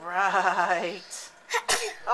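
A sharp, brief sneeze bursts out near the end, right after someone speaks briefly.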